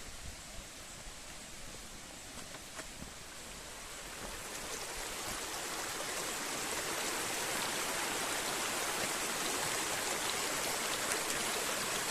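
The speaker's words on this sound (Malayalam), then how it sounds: "ഇതാണ് വെള്ളച്ചാട്ടം ഉപ്പള ഉപ്പള വെള്ളച്ചാട്ടം" Steady broadband roar of Uppala waterfall in Munnar, rising louder after a few seconds and continuing unbroken, with no voices.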